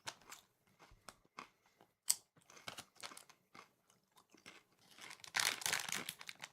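Doritos being chewed and crunched close up, a run of uneven crisp bites and crackles with short pauses, building to a louder, denser burst of crunching near the end.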